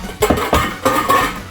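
Metal cookware clanks and scrapes a few times in quick succession, a saucepan being picked up and knocked against other pots nearby while making macaroni and cheese.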